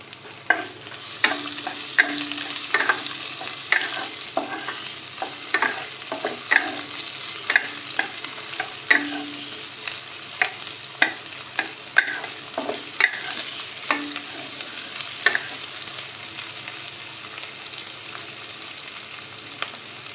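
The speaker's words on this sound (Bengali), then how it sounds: "পেঁয়াজ দিয়ে পেঁয়াজটা একটু ভেজে নেব।" Onions sizzle and fry in a pan for a beef curry, a steady hissing crackle broken by frequent scrapes and clicks of stirring, close and continuous with no talk.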